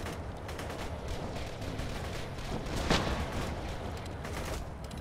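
Rapid gunfire rattles in Borderlands 2, dense bursts of shots layered over game noise with one sharper crack near the middle, loud and continuous.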